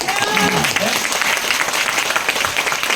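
Audience clapping fills the hall at a Tiens India New Year celebration event, a loud sustained wash of applause from a crowd with no break, voices faintly mixed in.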